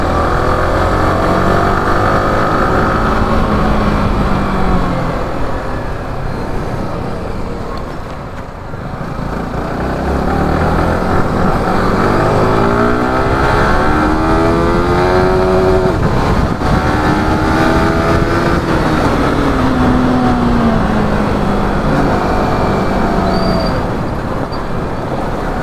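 Motorcycles race through city streets, among them Yamaha R15s and a KTM Duke. Engines rise and fall in long sweeping revs for nearly half a minute, with a roar of traffic close by.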